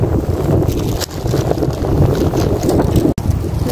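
Strong wind roars steadily across the microphone, a continuous buffeting rush with no speech.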